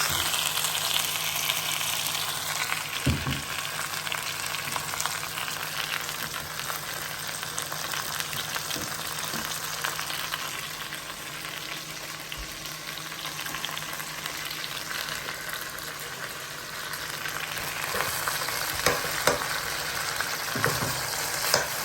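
Chicken feet fry and simmer in oil in a pan, a steady close sizzle and crackle running throughout with occasional stirring scrapes and clinks.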